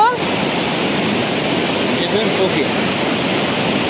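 A waterfall in Rize roars as a loud, continuous, close rush of water, unbroken throughout, with a person's brief speech partly heard over it.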